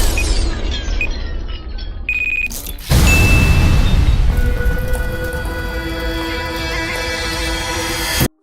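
An explosion in a dramatic scene: a sudden loud broadband blast cuts in sharply after quieter tones, then a sustained roar and rumble with lingering ringing tones that stop abruptly at the end.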